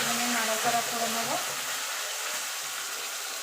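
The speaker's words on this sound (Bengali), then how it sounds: "কচুর শাকটা দিয়ে মিনিটখানি একটুখানি নাড়াচাড়া করে নেব।" Taro leaves are stir-fried in a pan for a Bengali vegetarian dish, making a loud continuous sizzling hiss with a brief voice near the start.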